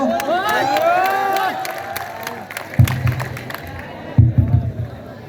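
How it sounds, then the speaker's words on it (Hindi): An audience at an evening college event applauds and cheers, with whoops and excited shouting over clapping early on, then the cheering swells again in two short loud bursts. "तालियों में कमी नहीं होनी चाहिए दोस्तों।"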